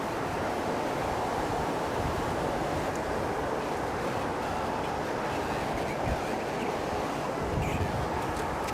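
Steady wind roaring across an open outdoor plane spotting spot near Brisbane Airport, a continuous broadband rush with gusty buffeting on the microphone and no clear voices.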